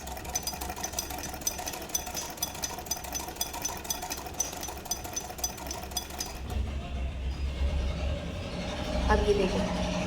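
A sewing machine stitching a taviz patti, a steady rapid mechanical whir with a fine rhythmic needle clatter that changes pitch and slows partway through, with a voice speaking over it.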